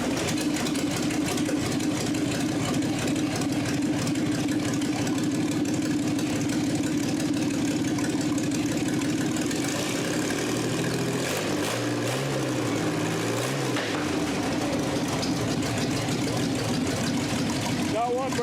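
GMC 702 V12 engine, with one broken exhaust, running at a steady, loud, rough idle close by, its low droning rumble continuous throughout, with a brief change in pitch near the end.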